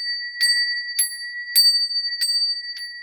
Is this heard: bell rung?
yes